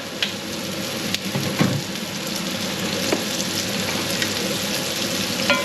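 Chopped onion and garlic fry in oil in a pan for an Italian-style steak sauce, giving a steady close sizzle scattered with sharp little pops and crackles.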